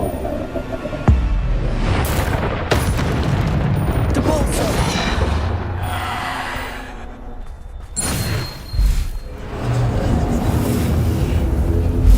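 Bombarda blasting spells from Hogwarts Legacy, heard as several loud, heavy booms at uneven intervals, each bursting out of a busy, rumbling combat soundscape and fading before the next hit.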